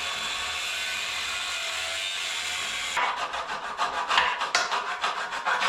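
Grinding down a metal part for clearance on a DIY mini front loader, heard as a steady abrasive rasp that turns into choppy, uneven bursts of grinding partway through, close and loud with no talk.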